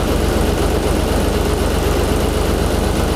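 A car engine idles steadily up close during a battery check, a low, even rumble with a regular pulsing throb and no other sounds.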